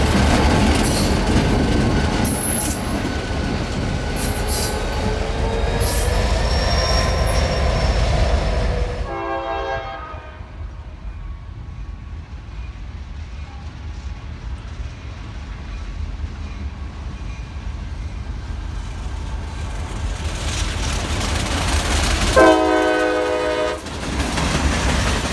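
A freight train with a single boxcar rolls north on the Lakeland subdivision, rumbling close with wheel noise, then its horn sounds in two separate chord blasts, one mid-passage and another near the end.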